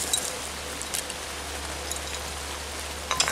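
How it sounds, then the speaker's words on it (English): Steady rain patters through the trees in outdoor woods, a continuous soft hiss with scattered nearer drips and a few brighter spatters, heard alone with no voices. "you see it's raining"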